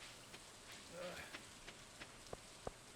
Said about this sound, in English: I love the rain mechanically, but I really don't like it that much aesthetically.